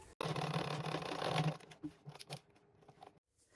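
A sewing machine stitches Ankara fabric up close in a quick whirring burst that stops after about a second and a half, followed by scattered quiet clicks and fabric handling.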